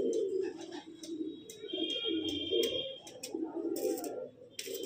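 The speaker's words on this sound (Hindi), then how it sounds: "कबूतर बहुत अच्छा भाई, बाबा जंटे वाली नस्लों में से कबूतर है" Pigeons from a Punjabi Malwai breed coo close by in soft, repeated throaty phrases, with brief chirps and a few sharp clicks mixed in, and no one speaking.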